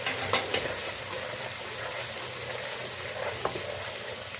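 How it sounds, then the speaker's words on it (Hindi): Garlic and ginger frying in a pan for chicken nihari, a quiet steady sizzle with a few soft clicks of a utensil near the start and one later. "अब इसमें हम लहसुन अदरक डालेंगे, इसको हम फ्राई कर लेंगे।"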